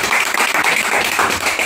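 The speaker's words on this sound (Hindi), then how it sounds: "चलो ताली हो जाए, कमाल का सिस्टम लगा" Audience applause at an institute training-course session, a dense, steady spatter of clapping that stays loud and even for under two seconds with no talk over it.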